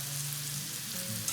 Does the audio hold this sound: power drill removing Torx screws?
no